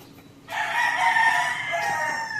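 A rooster crows loudly and close by, one long drawn-out call that starts abruptly and holds steady for about two seconds.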